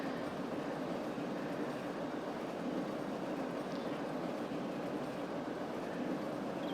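Metro train ride in the Cities: Skylines video game, a constant broadband rumble and rolling rail noise heard from on board, steady and unbroken throughout with no voices.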